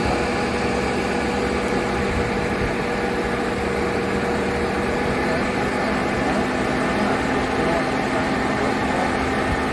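A Land Rover Freelander engine idles steadily with a constant low mechanical hum and vibration that stays even and unbroken throughout.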